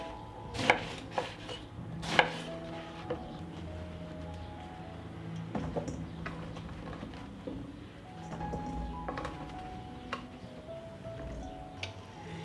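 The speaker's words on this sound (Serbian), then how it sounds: "I tako ću iseći sav patliđan." A knife chops eggplant into pieces on a board, several sharp, close cuts early on followed by scattered lighter taps and faint kitchen clatter, with no talking.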